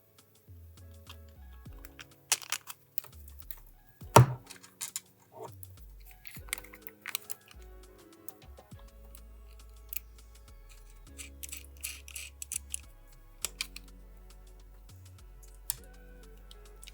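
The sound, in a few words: fastening a round servo horn with M3 bolts and nuts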